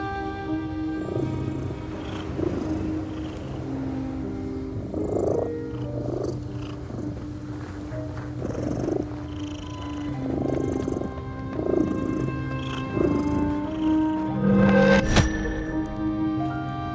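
A cat purrs steadily in The Midnight Walk video game, a soft rhythmic rumble that rises and falls with each breath, close and continuous, with faint game ambience and a brief sharp crack near the end.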